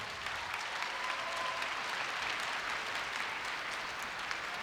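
Crowd at a Korea University entrance ceremony in a large hall applauding, an even, sustained roar of clapping throughout with no break.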